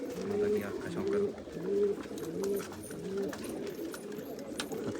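A pigeon cooing nearby in a loft, repeated low throaty coos in a regular rhythm of about five calls, with faint background murmur.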